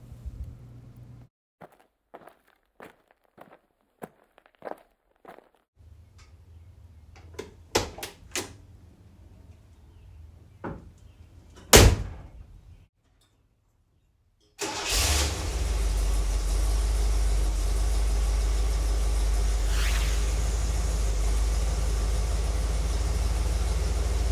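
A restored 1970 Lincoln Continental Mark III: a run of light clicks and a heavy door thud, then a short pause before the engine starts and settles into a loud, steady running drone.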